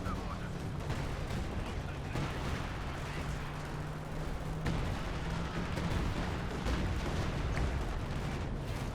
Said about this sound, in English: Oh, we're starting to see artillery shots on the B4.